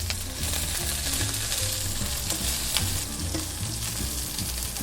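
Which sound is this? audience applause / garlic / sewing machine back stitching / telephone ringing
garlic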